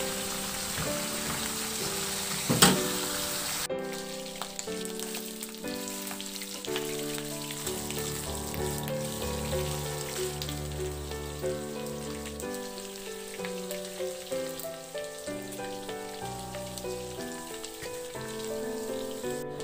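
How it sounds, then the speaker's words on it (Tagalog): Bite-size pieces of pork liempo fry in a pan, a steady close crackling sizzle mixed with background music, no speech. "iprito yung pork liempo na kinat ko lang ng bite size o serving cut"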